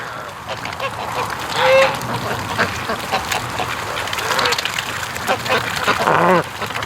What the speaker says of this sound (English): I guess that you'd call that a duck snort.